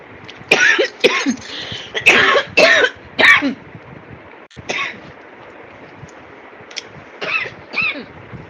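A person coughing repeatedly during a devotional satsang talk, a burst of harsh, close coughs followed by a pause and then a few more scattered coughs and throat clearing.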